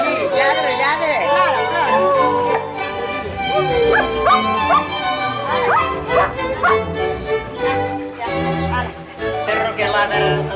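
A dog barks and yips repeatedly, with some whimpering, close and loud against excited people's chatter.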